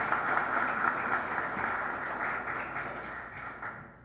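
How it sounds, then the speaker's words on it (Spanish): A press-conference crowd applauds a football club's newly presented head coach, dense clapping starting at full volume and gradually thinning and fading toward the end. "Un aplauso, por favor, para nuestro nuevo director técnico."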